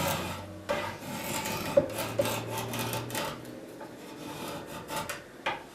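A bevel-down carving knife shaves a wooden arm rail, giving repeated close raspy scraping strokes with small knocks and taps, steady and fairly quiet with no talking.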